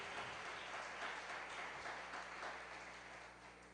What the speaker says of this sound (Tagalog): Lahat ng mga anak ng Diyos, pumalakpak ng malakas